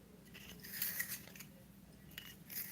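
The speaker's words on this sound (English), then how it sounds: "Little sharpener that holds the shavings" A small handheld pencil sharpener with a built-in shavings holder grinds a pencil tip in short, scratchy, rasping bursts, close and fairly quiet, with no one talking.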